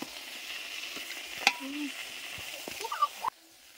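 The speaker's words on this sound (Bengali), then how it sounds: "ফুলকো ফুলকো নানগুলো ভাজা হচ্ছে" Puffed naan puri frying in oil: a soft, faint sizzle with a few sharp pops and bubbling bursts, ending abruptly.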